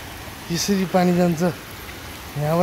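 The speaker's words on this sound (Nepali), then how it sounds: "हेर यसरी पानी जान्छ" Water flows in a steady, continuous rush under a person speaking close by.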